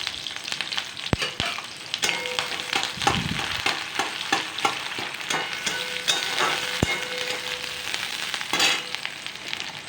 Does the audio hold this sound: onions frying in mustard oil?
yes